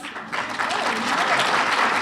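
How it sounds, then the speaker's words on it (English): Audience at a town hall meeting breaking into applause, a dense, steady wash of clapping that swells quickly and holds for a couple of seconds, with a voice faintly mixed in. "Another round of applause, please, for the commissioner."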